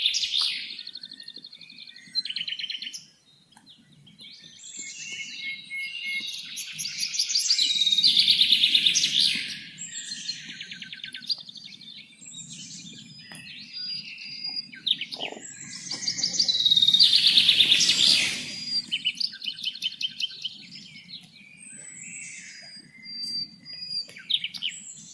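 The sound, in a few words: forest bird song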